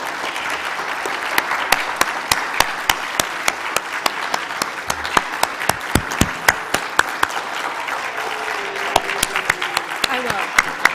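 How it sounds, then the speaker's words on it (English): A church congregation at a Sunday solstice pageant service applauds with crisp, distinct handclaps in a lively rolling patter. The claps stay fairly close and loud, with a faint murmur of voices beneath them. "if you can give her a round of applause"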